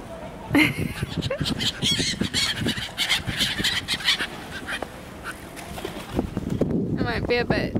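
Hungry geese honk and squabble as they are fed bread outdoors, a busy cluster of overlapping calls and quacks close by, with wind noise and people talking among them.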